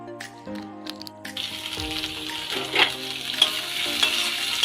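Chopped onion and green chilli frying in a little oil in a pan, a steady close sizzle with stirring scrapes and occasional louder spits, no talk.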